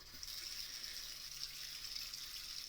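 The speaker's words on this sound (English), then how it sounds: "And then this beautiful water starts coming out the tap." Water running from the tap of a Kangen K8 water machine, a steady hissing stream, fairly faint and unbroken.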